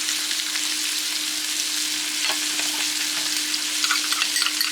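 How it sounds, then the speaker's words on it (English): Beef tallow and butter sizzle in a pan while a bone-in strip loin steak is cooked for Steak Diane: a steady, close crackling hiss with a faint constant hum beneath it and no voices. "Now adding beef tallow and some butter."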